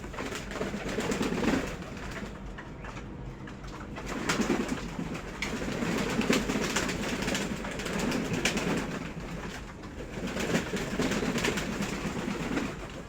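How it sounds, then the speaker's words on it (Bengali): A pair of Sirazi pigeons coo and shuffle steadily while eating and playing close by, with soft bird calls and movement sounds running throughout and no talking. "তো এই সিরাজি কবুতর দেখেন কীভাবে খেলাধুলা করতেছে"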